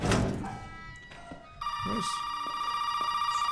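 Telephone ringing inside the Resident Evil 7: Biohazard game, a steady electronic bell tone that starts partway through and continues loudly after a thump and brief game noises.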